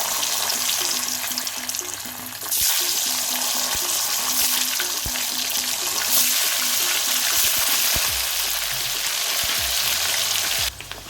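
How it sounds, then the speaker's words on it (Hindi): Paneer cubes frying in hot mustard oil in a kadhai, a dense, loud continuous sizzle with faint ticks and spatters, close-up and steady for the whole stretch before cutting out at the end. "तेल गरम हो चुका है और ये पनीर के क्यूब्स हैं, इसको हम लोग फ्राई करेंगे।"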